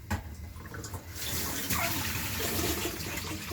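Water poured into rice for cooking, starting with a light trickle, then a steady close splashing rush that continues to the end, with no talking.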